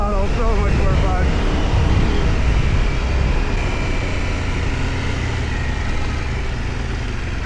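An adventure motorcycle in street mode surges on the throttle, its engine note climbing in pitch at the start before settling into a loud, steady roar mixed with heavy wind and road rush.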